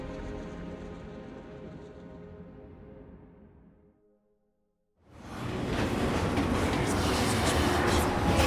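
A train in Final Fantasy VII Remake rumbles loudly and steadily, fades away to near silence, then surges back in as a broad, roaring rush of rolling wheels and carriage noise.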